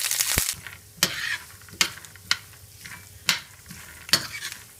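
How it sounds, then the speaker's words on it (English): Curry leaves fry in a pan with a low, continuous sizzle, broken by several sharp scraping clatters as a spoon stirs them; no talking. "add these with it, the curry leaves, and make it light brown"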